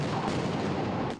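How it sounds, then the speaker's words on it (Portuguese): Volleys of rubber bullets and tear gas canisters fired by riot police at a street protest, a dense, continuous roar of blasts and crackling that fills the space without pause. "Tiros de bala de borracha, bombas de gás lacrimogênio."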